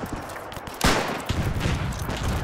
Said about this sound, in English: What are the machine guns starting to fire at?